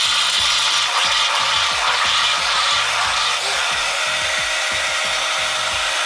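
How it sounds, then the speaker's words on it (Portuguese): An electric mixer beats pineapple cake batter in a steady, loud, whirring grind. The motor drone runs without a break, and faint uneven knocks come from the bowl below it. "E vou bater mais um pouquinho, tá? Só para poder misturar tudo."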